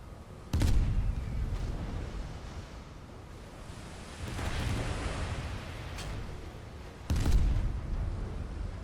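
In the naval combat game Steel Ocean, two heavy cannon booms ring out from a Farragut-class destroyer, several seconds apart, over a constant roar of sea and engine.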